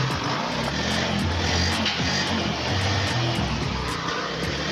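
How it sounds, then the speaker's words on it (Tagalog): Steady, loud engine drone from a Honda BEAT FI scooter still running after the key is switched off because of a faulty ignition switch, close and unbroken with no talk. "pag pinatay natin yung susi, ayan po, hindi po mamamatay yung makina"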